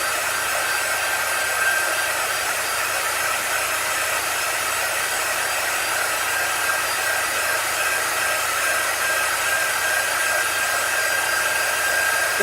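A heat tool blows hot air over chalk paint to dry it, a steady, loud, even whoosh that runs unbroken throughout with no voices.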